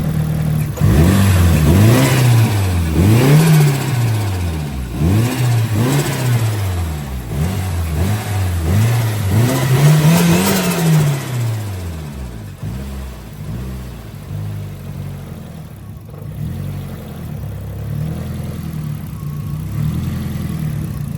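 A warmed-up car engine revs repeatedly, rising and falling in a series of loud, close sweeps before settling back to a steady idle.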